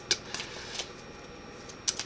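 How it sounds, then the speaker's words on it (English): Playing cards handled during a psychic medium's reading, with light papery slaps and flicks over steady room hiss as cards are shuffled and drop; a couple of sharp snaps near the start and again toward the end, no talking. "we're throwing cards. Honestly, I need to learn to shuffle."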